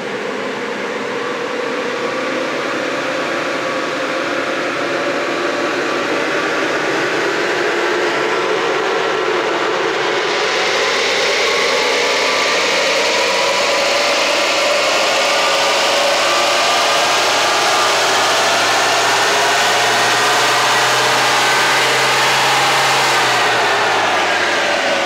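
An Isuzu D-Max engine, freshly remapped with an ECU tune, roars steadily on a dyno power run, building and holding loud revs up close before easing off at the end.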